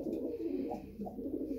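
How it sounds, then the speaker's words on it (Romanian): Soft, low cooing of very young pigeons, about four or five days old, murmurs steadily and close by in an aviary, a gentle continuous burbling with slight swells, no voices. "Deci cei mai mici porumbei din volieră."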